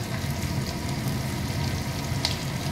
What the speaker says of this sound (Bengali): এটা ভাজবো এই তেলের মধ্যে।